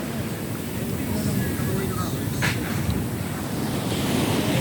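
Waves wash along a seashore in a steady, continuous broadband rush, with wind buffeting the microphone throughout and no clear break between surges.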